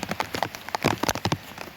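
Rain pours down over farm fields as the sky darkens, a dense patter of drops striking surfaces in close, uneven bursts throughout the short stretch.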